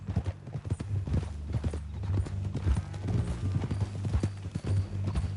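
Horse hooves clip-clop steadily and close in Red Dead Redemption 2, a brisk repeating rhythm of hoof strikes over a low, steady rumble.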